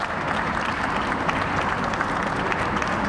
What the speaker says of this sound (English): Let's give that brief bio a round of applause.